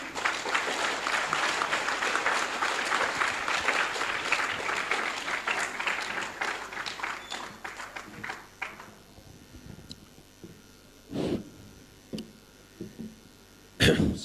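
Audience applause at a youth organisation gathering in India, a dense, fairly loud clapping that thins out midway, followed by scattered claps, coughs and shuffling in the hall.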